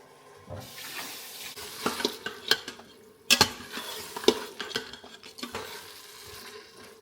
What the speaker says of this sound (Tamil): இந்த வெங்காயம் எல்லாம் பொரிஞ்சு வந்தாச்சு கொஞ்சம் தான் சிக்கன் போடுறேன்